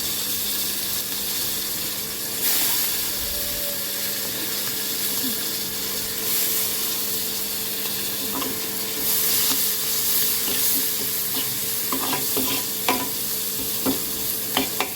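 Fresh coriander and fenugreek leaves go into a hot frying pan with onions, giving a steady sizzle with stirring and occasional clinks of a utensil against the pan, close and moderately loud.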